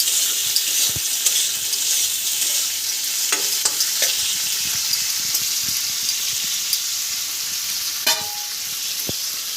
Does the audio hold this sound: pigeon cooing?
no